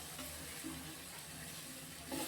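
Steady running water splashes continuously into a cooking pot for egg curry, a soft broadband wash with faint low clatter underneath.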